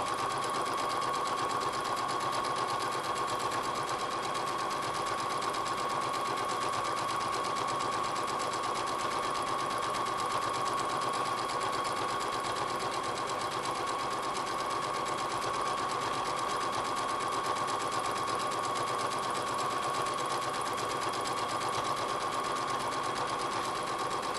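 A sewing machine stitches steadily through a rag quilt in random free-motion lines, a continuous close whirring hum that runs unbroken throughout.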